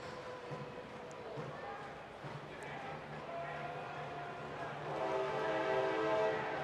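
A train rolls past PPL Park soccer stadium during a U.S. Open Cup match, its horn rising into sustained blasts near the end over steady crowd and broadcast noise, with voices throughout.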